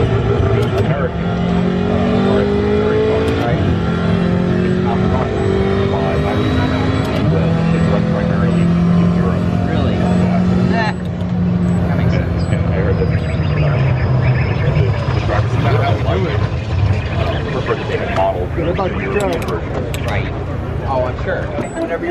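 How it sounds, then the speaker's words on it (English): A front-wheel-drive Audi touring car drives at speed, its engine note climbing and falling through the gears in a constant loud drone while someone talks over it. "you're in a front wheel drive Audi touring car"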